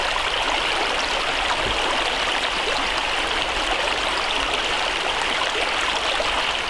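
Little Beaver Kill, a stream in the Catskills, flows in a steady, dense rush of water, close and constant with no voices.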